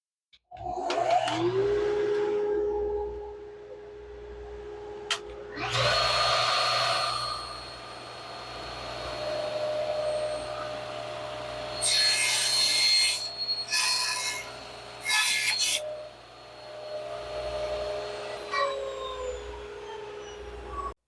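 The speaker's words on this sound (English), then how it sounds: "So now I want to cut these pieces so they're a more workable length." A power saw cuts cherry, bloodwood and canary hardwood strips for a cutting board, its motor whining steadily for about twenty seconds with several louder, rasping bursts as the blade bites through the wood. No one speaks.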